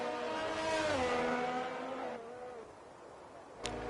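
Race car engine in a sim racing qualifying session, a whining high-revving note that climbs, then drops on a gear change and fades lower, ending with a short sharp click.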